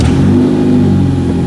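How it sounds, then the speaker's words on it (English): A car engine cranks and catches, then settles into a steady, fairly loud idle with a slight rev. It is heard close by with no talking. "start the car."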